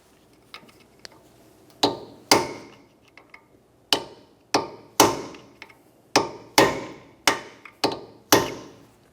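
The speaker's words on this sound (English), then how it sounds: "use the punch and drive the nut down into that slot" A hammer strikes a punch to peen a Honda Civic axle nut into its notch: a few light taps, then about ten sharp ringing metallic blows in an uneven rhythm, close and loud with short decays.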